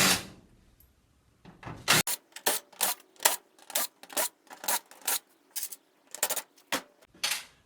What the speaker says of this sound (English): now we can go ahead and remove these screws